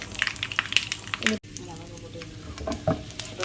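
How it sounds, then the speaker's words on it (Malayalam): Mustard seeds and dried red chillies fry in hot oil, a steady close crackle and sizzle with small spattering pops, broken by a brief gap before the frying resumes. "കടുക് പൊട്ടി ഉണക്കമുളക് ഇട്ടു"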